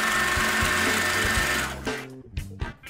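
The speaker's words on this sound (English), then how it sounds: "Now you're going to sew a seam along the pin line" A sewing machine stitches a seam through fabric with a fast, steady mechanical whir and rhythmic needle clatter, then slows and stops with a few short bursts of stitching.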